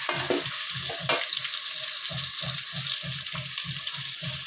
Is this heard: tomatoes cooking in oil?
yes